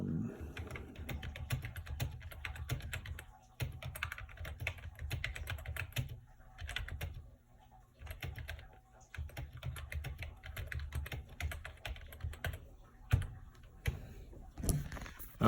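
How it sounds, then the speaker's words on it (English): Rapid clicking of a USB computer keyboard connected to an Apple Lisa through a converter as someone types in bursts with short pauses between, close by and fairly quiet. "So you'll at least hear me typing."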